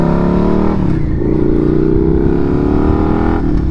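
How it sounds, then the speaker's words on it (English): A 2022 Suzuki SV650 motorcycle engine revving under throttle while riding, a loud close engine note rising in pitch, easing briefly, then climbing again over constant wind rush. "It's a lot of fun to be able to ring out the throttle more on a bike like this."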